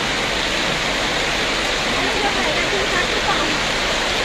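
Heavy rainwater rushes down the middle of a road during a hailstorm in Kurseong, Darjeeling, a loud steady broadband roar of flowing water and downpour throughout, with a voice speaking faintly underneath.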